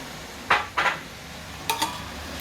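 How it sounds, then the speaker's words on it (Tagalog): Egg being added to a pan of vegetables, marked by two pairs of short clattering knocks of utensil against pan over a steady low background hiss. "Ilalagay na natin yung itlog."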